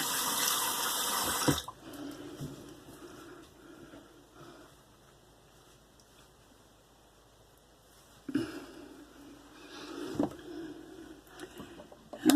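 A razor is rinsed under a running tap. Water splashes into a sink in a short burst at the start, then again more faintly near the end, with quiet gaps between.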